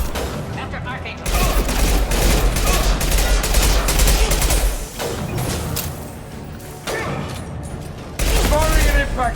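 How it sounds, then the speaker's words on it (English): Loud, sustained automatic gunfire and heavy impact shots sound in a Mass Effect 2 firefight. They come as dense, rattling bursts with a few short pauses, and voices talk in between. "Firing an impact shot."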